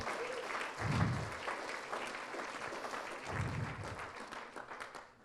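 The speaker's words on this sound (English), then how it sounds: "Give yourselves a round of applause." Sustained audience applause fills a talk venue, a dense, steady wash of clapping that swells near the start and holds at moderate loudness before tapering slightly at the end.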